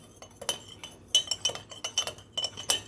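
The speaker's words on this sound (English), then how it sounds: "Once again, going to give it a good stir." A spoon clinks repeatedly against a glass while stirring a solution in a lab, a quick series of light, sharp taps heard alone and fairly faint.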